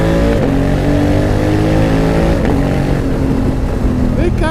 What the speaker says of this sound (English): It sounds more aggressive than any of the other adventure bikes, even ones with more power.